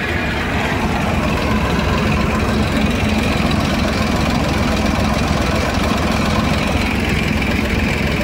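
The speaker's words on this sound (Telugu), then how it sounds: "ఇక్కడ ట్రాక్టర్లతో లాగుతున్నాయి కదా" Several tractor engines running together to pump water out of a pond, a loud continuous low drone with a steady idling rumble, close and unbroken throughout.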